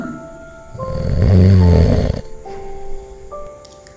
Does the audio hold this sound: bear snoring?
yes